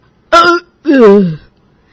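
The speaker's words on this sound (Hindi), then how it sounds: "पिछले कुछ दिनों से रोज खट्टी डकार मार रही हो" Two loud, voiced sour burps from an elderly woman with an upset stomach, heard one after the other with a short gap between them and no talk around them.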